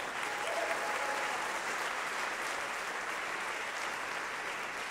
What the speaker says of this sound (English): big round of applause for Jake Jackson